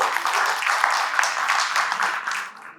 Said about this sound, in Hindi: एक बार और तालियां बजा दीजिए